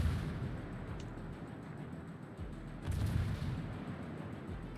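Torpedo hits strike the ship Kuroshio Kai in World of Warships, a naval video game, heard as muffled low booms over a steady rumble of distant battle, with a stronger impact partway through.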